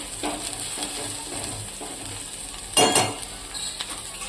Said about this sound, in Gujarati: 2 સૂકા લાલ મરચાં, તજ અને 3 આપણે લવિંગ નાખીશું. બધું આપણે મિક્સ કરી લઈશું. થોડીક વાર આપણે આને સંતરવા દઈશું.